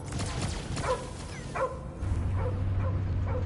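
Dog barking in the video game Marvel's Guardians of the Galaxy: several short yelping barks spaced through a few seconds, set over a steady low rumble of game ambience and music.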